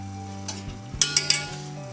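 A spoon stirring homemade cough syrup with bay leaf in a pot of water, giving a few light scrapes and three sharp clinks of metal against the pot, close and fairly quiet over a low steady hum.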